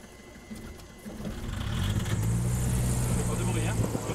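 The diesel engine of a small aircraft, cold after two days unused, starts up and settles into a loud steady hum that swells over the first seconds, with someone talking over it.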